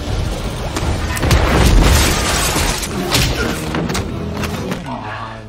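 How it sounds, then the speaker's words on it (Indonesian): A bomb explodes in an action film, heavy booming thuds and crashing bursts rolling loudly over several seconds amid dense, chaotic debris noise. "Tepat ketika mereka sampai di sana, air sumur telah penuh dan Six langsung meledakkan bomnya."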